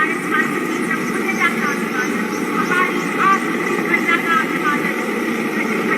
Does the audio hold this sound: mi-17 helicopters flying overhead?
yes